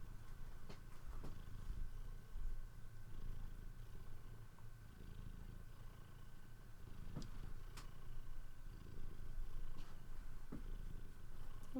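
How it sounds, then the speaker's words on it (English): A cat purring steadily and close up, a continuous low rumbling drone that runs for about twelve seconds with gentle swells and no talking over it. "people could hear you purr"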